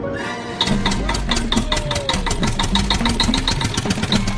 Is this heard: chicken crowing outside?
no